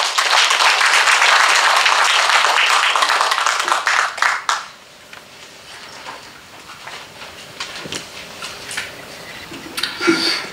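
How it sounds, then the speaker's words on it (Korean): An audience at a literary festival gives a loud, dense round of applause that fades after about four seconds, leaving scattered claps and room noise. "큰 박수 부탁드립니다."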